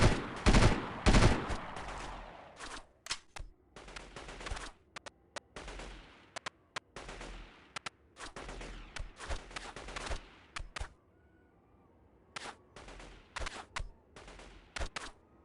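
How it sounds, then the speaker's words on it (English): Gunfire in the video game Delta Force 2: bursts of automatic fire and single shots, loud at first and then quieter, in irregular clusters with gaps between them. "who in God's name is shooting me?"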